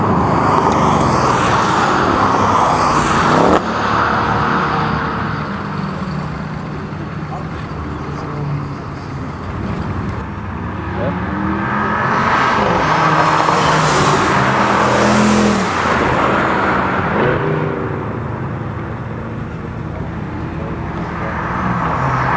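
Mercedes-AMG cars at a driving academy on a racetrack, such as the A45, C63, CLS63, GLA45 and E63, with engines roaring loudly and continuously as they accelerate and pass, swelling and fading over a constant dense rumble.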